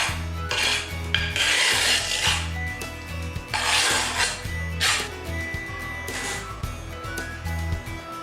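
Trowel scraping thin-set mortar across the back of wood-look porcelain tile while back buttering for a bathroom floor: repeated rasping, gritty strokes in bursts, close and fairly loud, with no talking.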